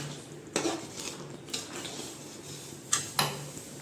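Spices being stirred into a bitter gourd curry in a pan, with a few sharp spoon scrapes and clinks against the metal over a faint background hiss, two louder knocks near the end.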